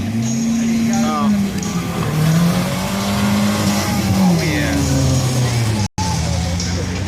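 A car at a race wars event revs hard while its tires spin without traction, the engine note rising and falling steadily up close, with people talking over it.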